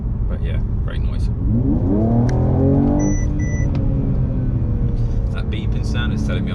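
Mercedes-AMG E53 proximity warning chiming twice as the car closes on the vehicle ahead, brief high beeps over a loud steady engine and road rumble inside the cabin, with a rising engine sweep just before.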